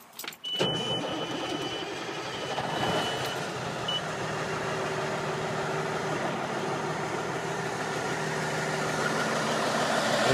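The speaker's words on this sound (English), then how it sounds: "Let's take a listen to the motor." A 2002 Kenworth T800 truck engine starts with a brief crank, then settles into a steady, close diesel idle with a low harmonic drone and a faint high tone, running alone for about ten seconds.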